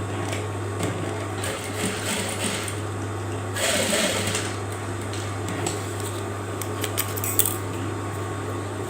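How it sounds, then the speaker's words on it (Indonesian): A sewing machine stitches a jacket pocket in steady mechanical bursts with a constant motor hum, close and clear, with a louder stretch near the middle and a few light clicks toward the end. "Sebelah juga kita jahit yang ini."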